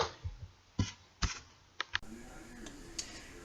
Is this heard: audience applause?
no